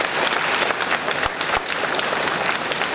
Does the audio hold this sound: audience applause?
yes